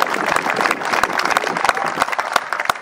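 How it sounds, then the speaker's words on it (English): An audience at a Tea Party rally gives a round of applause, a dense burst of many hands clapping at moderate distance for a few seconds. "Let's give them another round of applause."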